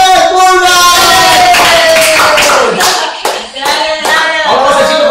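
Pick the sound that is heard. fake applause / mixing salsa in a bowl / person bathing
fake applause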